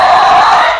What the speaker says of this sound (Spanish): el monstruo se volteó completamente hacia mí y lanzó un grito aterrador